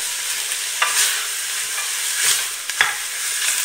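Lamb collar meat sizzles steadily as it browns in a pot, a continuous bright frying hiss broken by a few sharp scrapes of stirring, close and loud with no voices.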